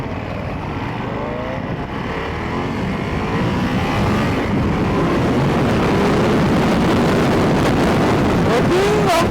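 Ducati Monster 696 motorcycle on a test ride, its engine note rising and shifting under heavy wind buffeting on the microphone; loud and continuous throughout, with a rider's voice heard faintly in places.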